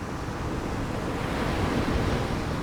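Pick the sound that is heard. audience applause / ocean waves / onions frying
ocean waves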